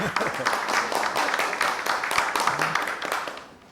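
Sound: audience welcoming applause

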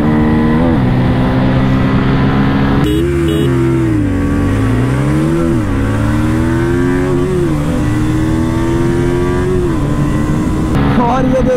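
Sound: Pulsar F250 and KTM RC200 motorcycles accelerating in drag race

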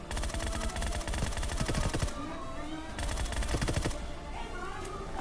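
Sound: random gunfire in the video game BGMI

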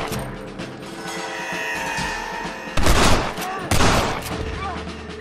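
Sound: gunshots in video game

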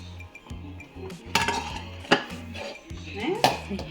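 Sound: stirring jaggery and coconut filling in a pot

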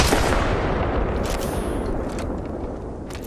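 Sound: gunfire in Apex Legends video game

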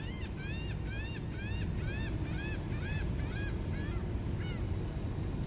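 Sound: goose honking

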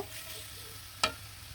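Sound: potatoes frying and being stirred in pan

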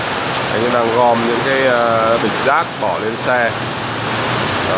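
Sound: heavy rain on a Saigon street

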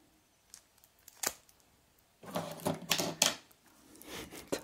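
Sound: opening a tarot card box

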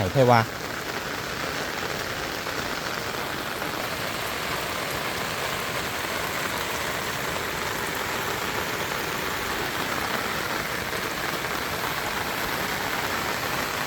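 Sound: rain falling on a surface

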